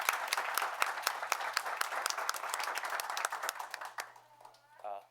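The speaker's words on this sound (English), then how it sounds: "Please give Angela a round of applause" A packed town board meeting crowd applauds, a dense run of clapping for about four seconds that fades out, followed by a brief voice at the end.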